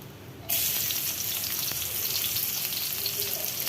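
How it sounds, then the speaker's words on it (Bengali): Fish drops into hot oil in a home kitchen and sets off a sudden loud, steady sizzle and crackle close by that keeps going without talk. "তো আমি মাছের জন্য তেল গরম করছি।"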